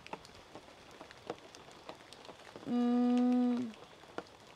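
Steady rain pattering on surfaces nearby with scattered drips, interrupted by a brief tonal hum.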